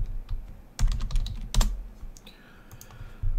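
Close computer keyboard typing in short irregular bursts of crisp key clicks, with brief pauses between clusters and a faint hum underneath.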